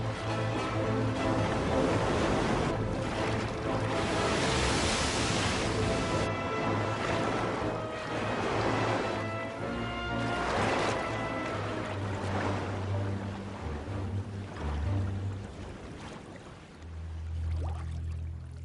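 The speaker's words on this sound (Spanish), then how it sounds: "Agitada por el viento y las olas, la carabela española se rompe en pedazos." Wind and waves batter a Spanish caravel as it breaks apart, with loud surging water, crashing swells and creaking tones rising and falling across the stretch.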